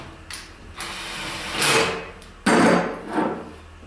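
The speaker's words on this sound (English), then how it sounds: "You can use a screwdriver, I've just got an impact driver." An impact driver tightening a bolt while assembling a Cafe Reality Columbia base: several short bursts of rapid mechanical hammering, close and fairly loud, separated by brief pauses.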